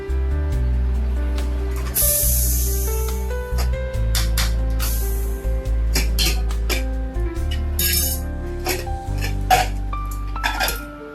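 A brief burst of hissing steam rushes out as a pressure cooker of dal is opened after four whistles, then metal clinks and clatter follow, all over steady background music.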